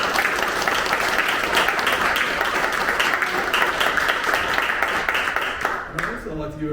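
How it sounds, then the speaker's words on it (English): Audience applause at a public talk on housing, a dense, steady wash of many hands clapping for about six seconds before tapering off, with faint voices mixed in. "And a round of applause."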